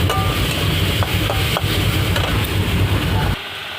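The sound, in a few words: adding boiled taro greens to frying onions in a pan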